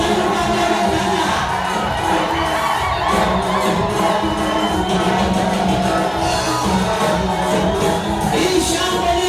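A large crowd cheers and shouts continuously and loudly at a gathering celebrating the appearance of Kanumba, with dense, sustained roaring and whoops throughout.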